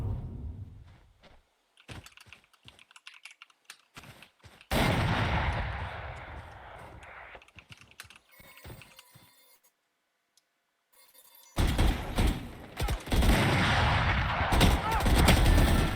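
Gunfire in a tactical shooter video game, with bursts of shots and sharp loud reports in the second half after sparse clicky sounds and quiet gaps, with brief speech mixed in.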